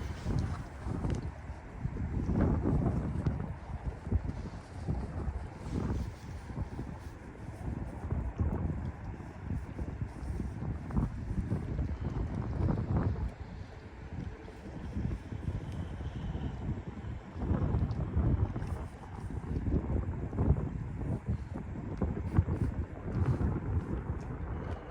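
Gusty wind buffets a small boat on open water during crappie fishing, a steady low rumble of microphone wind noise with surges and lulls running throughout, no talking.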